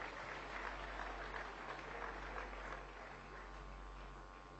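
Church congregation applauding for married couples during a Sunday worship service, a steady broadband wash of clapping from a large crowd that holds for several seconds without any talk over it.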